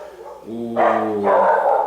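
Several dogs bark and yip close by, overlapping in quick bursts with a whining, tonal edge.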